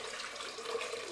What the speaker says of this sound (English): You're going to start by adding your water into your bowl.